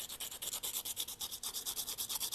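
Sandpaper worked back and forth against an X-Acto knife blade to put a back bevel on it, a quiet, close, rhythmic scratchy rasp repeating quickly and evenly throughout.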